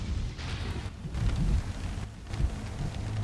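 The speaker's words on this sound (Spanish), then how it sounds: "en la calle está lloviendo bastante" Heavy rain falling outside in the horror video game DYING: Reborn, a continuous hissing downpour with low rumbling swells and a few heavier thuds, steady and moderately loud with no talk.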